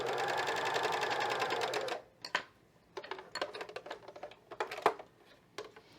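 A cover stitch sewing machine runs steadily for about two seconds as it sews fold over elastic, a dense mechanical hum that stops abruptly, followed by scattered clicks and light handling taps.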